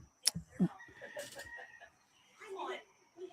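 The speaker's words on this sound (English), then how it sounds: "There's Roosters." Roosters crow from a distance, a couple of drawn-out calls with clucking, while people talk quietly nearby.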